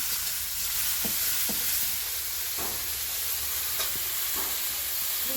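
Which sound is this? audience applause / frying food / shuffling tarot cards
frying food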